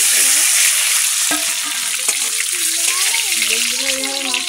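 Duck eggs dropped into a hot oiled pan for an egg curry, hissing into a loud, steady sizzle that runs throughout, with a faint voice murmuring underneath.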